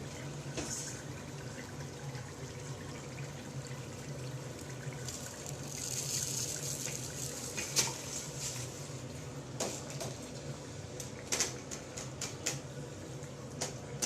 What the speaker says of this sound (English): Water to it after braising it.